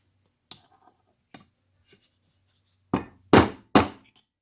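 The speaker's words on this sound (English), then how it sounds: "Start driving that out with a hammer, kind of working my way around to evenly push this bearing out the other side." A rubber mallet drives a bearing out of an Argo transmission, giving sharp knocks: a few light, spaced taps, then three louder, heavier blows close together near the end.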